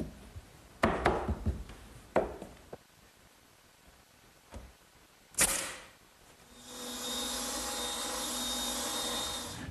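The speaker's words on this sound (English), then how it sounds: "now I'll rip it to the widest width" A saw rips a wooden board to width for a hearth-side settle, starting with a few sharp knocks and clatters, then a loud, steady whining cut that runs alone for several seconds, close by.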